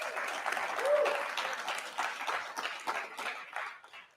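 Audience applause at a Seattle City Council District 3 candidate debate, steady dense clapping from a crowd lasting several seconds, fairly close and unbroken, with no talk over it.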